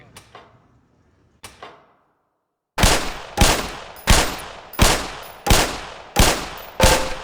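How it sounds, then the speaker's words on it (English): Seven evenly spaced, loud handgun shots fired at shooting-range targets in Black Mesa, each crack ringing briefly, preceded by two fainter mechanical clicks. "Put 7 rounds in the center ring of each target."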